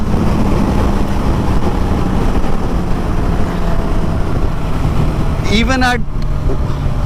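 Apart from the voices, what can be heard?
2024 Suzuki Katana motorcycle at wide open throttle on highway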